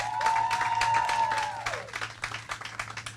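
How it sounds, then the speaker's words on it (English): Audience clapping at a governor's address to a national MLK commission conference, moderately loud at first with a whistling tone over it, then thinning into scattered claps that fade toward the end. "we'll clap for all of them, absolutely."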